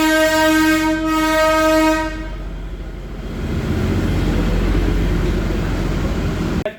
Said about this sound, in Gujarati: પણ ટોય ટ્રેન આવી છે.